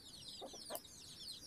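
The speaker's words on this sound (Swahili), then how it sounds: "kuku ana vifaranga" A free-range hen with a brood of twenty-two chicks gives a brief burst of soft clucking over faint, high chick peeping, all quiet and close with no talk.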